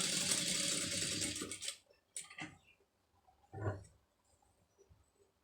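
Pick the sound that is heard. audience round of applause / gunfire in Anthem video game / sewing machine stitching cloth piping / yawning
sewing machine stitching cloth piping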